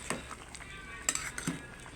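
Spoon stirring bulanglang vegetable stew in a cooking pot, soft scraping and clinking strokes, brief and close at low volume.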